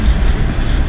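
A long CN freight train rolls past on the rails, a loud, close, steady low rumble and rattle of wagons with no talking.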